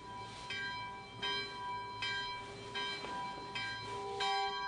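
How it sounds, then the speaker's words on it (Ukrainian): Church bells ring out on Easter morning, a steady series of bright, resonant strikes about once a second with long ringing overtones, heard at moderate distance against a quiet background. "Цей день дзвонять дзвони"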